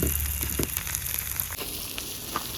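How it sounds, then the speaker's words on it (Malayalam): Fish fries in ghee in a pan, a dense continuous sizzle with crackling spits and a few soft clinks, close and steady with no talk. "മീൻ വറുത്തോണ്ടിരിക്കണം"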